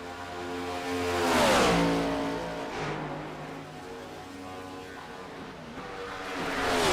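Race car engines in a racing video game roar and rev, rising to a loud pass then shifting pitch abruptly as a gear is missed, with further cars droning and swelling again at the end.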